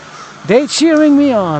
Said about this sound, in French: There's those crows who keep on singing.